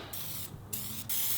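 Spray paint hisses from an aerosol can onto the deck of an ENVY scooter in three quick bursts, a close, airy rush separated by short pauses, with no voices.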